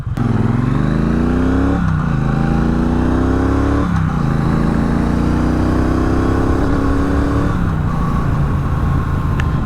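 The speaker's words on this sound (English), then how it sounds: "Cruising on the Auckland motorway at 80 kilometers an hour, we're doing 2200 RPM" A Triumph Bonneville Bobber motorcycle cruises on an Auckland motorway at about 80 km/h and 2200 RPM, giving a loud, close, steady engine drone with rising pitch through a few gear changes and strong wind rush, with no voices.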